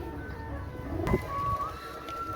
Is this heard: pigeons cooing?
yes